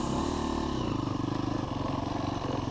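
A KTM trail motorcycle rides a trail at Ardmore/Brookby, its engine a loud, close, steady chugging pulse at low revs held throughout with slight variations in throttle.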